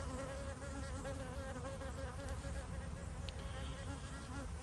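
Honeybees buzzing in a dense, continuous drone, many wings humming at once close by, steady in loudness with no breaks and no talking.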